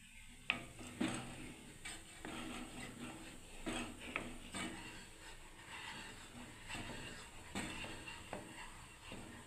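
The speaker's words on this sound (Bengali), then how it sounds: "দেখুন সমানে নাড়তে হচ্ছে বন্ধুরা।" Spoon stirring thickening milk in a pot while making Bengali doi, repeated scraping and soft clinks against metal with a faint simmering hiss, quiet and close.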